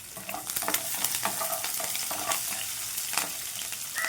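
Curry leaves frying in hot oil in a pan for a Telugu masala gravy curry, a continuous close sizzle with scraping stirring strokes and crackling pops, no talking.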